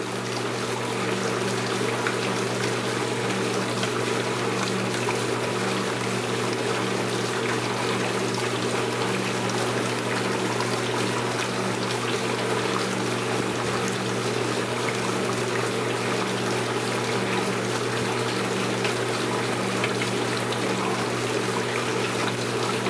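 An Enxuta automatic dishwasher releasing water, a steady continuous rush and trickle over a constant low pump hum, unchanging and close throughout.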